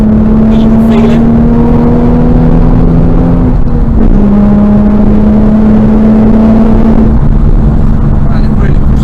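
Modified Nissan 350Z with a naturally aspirated engine accelerating, a steady loud drone rising in pitch, dipping briefly at a gear change near the middle and climbing again, heard from inside the car.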